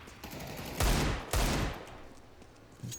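Two loud, booming Desert Eagle pistol shots ring out in a competitive video game match, each with a short decaying tail, followed by a fainter third report near the end.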